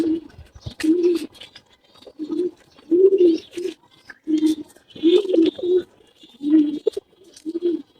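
Pigeons coo repeatedly from a backyard pigeon house kept among dragon fruit plants and other greenery, with soft rhythmic bursts of cooing close by and faint chirps in the background.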